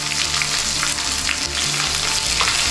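Sliced onions fry in hot oil with popped mustard seeds and dried red chilli, giving a loud, steady, close sizzle with a few faint stirring touches and no talking.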